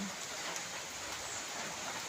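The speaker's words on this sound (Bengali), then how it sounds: "বৃষ্টি ভিজা দিনে কোথাও যেতে মন চায় না" Steady rain falls on a rainy day, a soft, even wash of broadband hiss that runs unbroken and fairly quiet throughout, with no voices.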